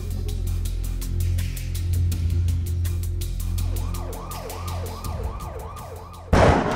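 Ambulance siren from an emergency call in Pakistan, its wailing tone rising and falling steadily over low road rumble, fairly near, with no talk.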